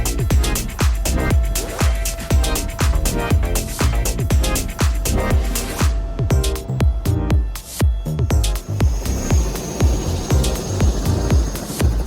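Steady rhythmic thudding of an EC130 helicopter's rotor blades with constant engine whine, loud and close as if heard from inside the cabin, no talking.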